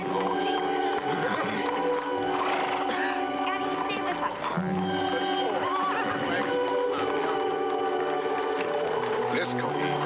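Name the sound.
horse neighing and whinnying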